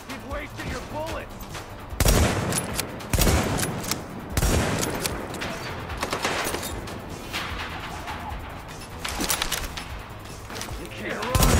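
Gunfire in an action film scene, a series of loud, sharp shots and bursts spread unevenly across the passage, some in quick clusters, mixed with voices and a busy background.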